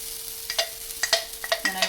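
Small sourdough discard fry bread pancakes with cheddar and onion fry in a pan. A soft sizzle runs underneath several short scraping and clinking touches that come in quick clusters.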